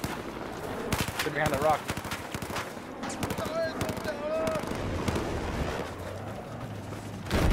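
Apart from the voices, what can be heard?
gunfire in Battlefield 4 video game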